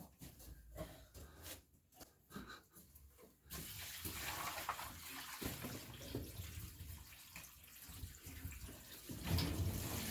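Water dumped into a sump pump pit, a quiet stretch of small trickles and drips before a sudden heavier pour that keeps splashing and gurgling steadily until the end, fairly close.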